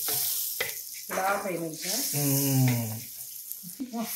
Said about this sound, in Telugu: గ్రిల్డ్ చికెన్ బటర్లోనే ఫ్రై అవ్వాలన్నమాట